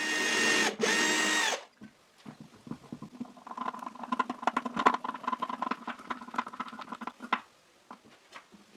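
Rapid, rattling mechanical whirring of a drill boring a pilot hole into a metal plate for a router table, steady for several seconds after a brief loud burst of noise, close by.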